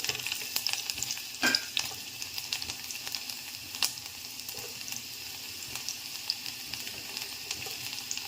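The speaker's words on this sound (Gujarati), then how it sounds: "મસ્ત તેલ આવી જ ગયું છે એટલે આપણે પહેલા લસણને નાખી દઈએ" Garlic sizzles and crackles in hot oil in a home kitchen pan, a steady bright fizzing hiss with occasional louder spits and a stirring scrape, close and continuous without speech.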